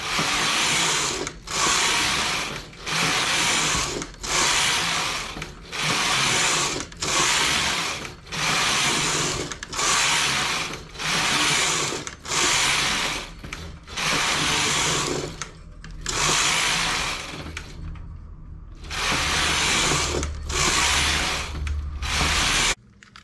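A knitting machine carriage slides back and forth knitting a balaclava, a loud rhythmic series of about a dozen whooshing, clattering passes with brief gaps between them.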